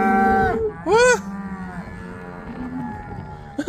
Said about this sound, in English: Oh, there's more cows over there.